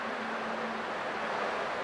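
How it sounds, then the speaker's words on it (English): Ocean waves in the video game Honkai Star Rail, a steady broad wash of surf noise with no distinct breaks, soft and continuous throughout with no voices. "I can still clearly hear the sound of the waves."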